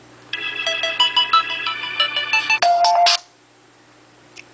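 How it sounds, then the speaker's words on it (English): A ringtone plays from an Android phone: a bright, rapid melodic sequence of tones for about three seconds, then it stops abruptly and the room goes quiet. "Phone ringtone."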